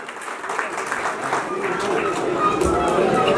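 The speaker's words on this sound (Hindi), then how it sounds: "आप लोग कम से कम ताली से जरूर स्वागत कीजिए जो उपलब्धि है महिला नेत्री का" An audience claps in welcome for a woman leader at a gathering, a steady close wash of applause that swells slightly toward the end, with some crowd murmur underneath.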